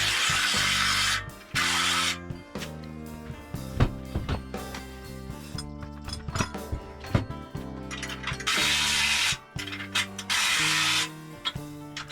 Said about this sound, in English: So I think we're good to tighten the rest up now.